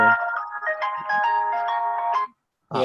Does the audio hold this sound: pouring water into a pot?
no